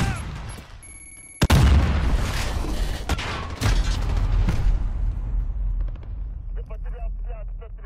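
A grenade in Modern Warfare detonates with a sudden loud boom after a short tone, followed by further thuds and rumbling debris, then a voice speaks over fading background noise.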